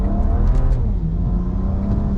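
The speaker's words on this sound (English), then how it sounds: "So we're in sports mode, and we'll accelerate." A street car with a drag-tuned transmission accelerates hard in sports mode, its engine droning loud and steady from inside the cabin, with a slight dip in pitch around a gear change.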